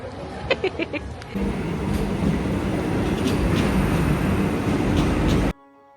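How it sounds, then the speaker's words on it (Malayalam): A Vande Bharat train pulls into a station platform with a loud, steady rumble and rolling noise that swells in after a brief quieter start and holds until it cuts off abruptly. "ട്രെയിനും കറക്റ്റ് സമയത്ത് തന്നെ പ്ലാറ്റ്ഫോമിലെത്തി."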